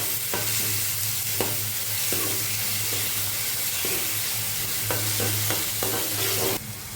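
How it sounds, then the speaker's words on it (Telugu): Onions, green chillies and curry leaves fry in hot oil in a kadai, giving a steady broadband sizzle with the repeated scrape of a spoon stirring, close and continuous with no voices. "ఉల్లిపాయలు, పచ్చిమిరపకాయలు, కరివేపాకును యాడ్ చేసుకొని ఫ్రై చేసుకోవాలి."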